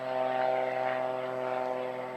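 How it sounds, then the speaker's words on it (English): A crop-spraying propeller plane flies over fields applying Roundup, its engine a steady, loud droning hum with strong tonal harmonics that holds throughout without pause. "got the sprayer planes out spraying"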